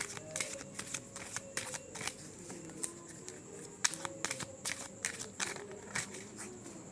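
Tarot cards are shuffled by hand in a quick, uneven run of soft riffling slaps and flutters, close and fairly quiet, continuing for several seconds with no talk.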